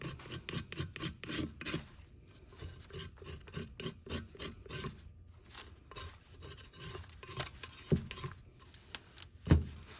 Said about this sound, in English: So I use popsicle sticks sometimes whenever it's just coming off like this. It just kind of helps scrape it off a little bit easier.